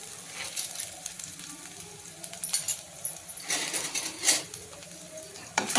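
Green chillies, ginger and coarse peanut meal sauté in a pan for a coriander-fritter dish, giving a soft crackling sizzle broken by a few louder scraping and clinking stirs, close by, with no talking.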